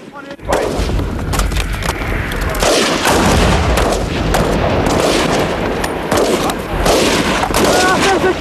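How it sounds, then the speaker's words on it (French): Live rounds fired by French troops in Djibouti during a military field exercise, with loud rapid bursts of gunfire and heavy booming reports echoing across open terrain, heard close and repeated almost continuously. "tirer à balles réelles, ça change tout un exercice?"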